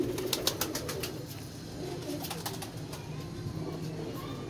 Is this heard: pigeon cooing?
yes